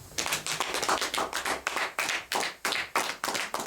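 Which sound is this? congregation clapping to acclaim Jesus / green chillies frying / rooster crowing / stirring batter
congregation clapping to acclaim Jesus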